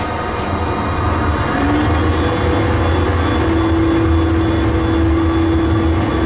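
Boeing 737-800 flight simulator engines held at full takeoff throttle, a loud, continuous broadband roar with a steady tonal hum that briefly climbs in pitch, heard alone without speech.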